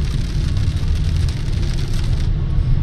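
Heavy rain pounding on a moving car, a dense, continuous roar of drops and road noise that stays loud and even throughout, with no talking.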